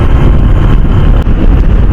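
Strong wind buffets the microphone while riding a Honda motorbike in hot weather, a loud, constant low roar with no pauses throughout.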